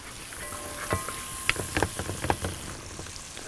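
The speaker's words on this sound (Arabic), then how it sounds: "هنشوح البصل، مش هديله لون، يعني هشوحه كده" Onions sautéing gently in a pan with a little butter for a creamy seafood potato soup, a soft steady sizzle broken by a few sharp crackles and stirring clicks, close and fairly quiet.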